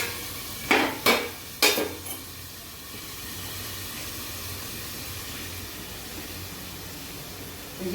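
Chicken fries on low heat in a covered pan, with three quick scraping or clattering bursts early on, then a steady soft sizzle that carries on alone.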